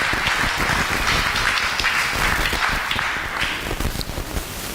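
A church congregation at a Sunday worship service applauding together, a loud, dense, sustained roar of clapping that tapers slightly toward the end.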